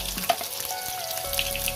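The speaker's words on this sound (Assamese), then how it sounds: "আমি কাটি থোৱা পিয়াজখিনি ইয়াতে এতিয়া দি দিম" Chopped onions go into hot mustard oil in a wok and sizzle steadily and fairly close, with a few brief stirring clinks and no talking.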